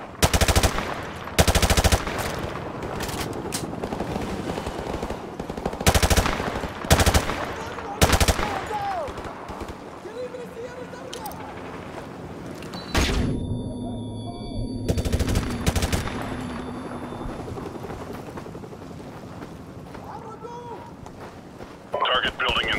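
Gunfire from Call of Duty Modern Warfare Remastered during a battle around a TV station: loud bursts of automatic fire and single shots in uneven clusters, with battle noise and voices in between.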